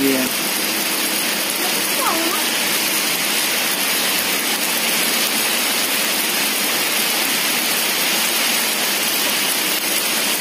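Heavy rain pours steadily onto a traditional Bugis Pitu-pitu kite outdoors, a dense continuous hiss and patter with no letup.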